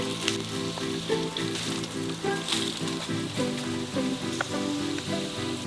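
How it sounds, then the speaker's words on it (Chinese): Chunks of Lipu taro sear in hot oil in a pan, giving a steady close sizzle with scattered crackling pops throughout and no talk. "切块后入锅，把几面煎一下"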